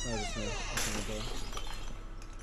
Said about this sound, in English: I just heard, glass shattering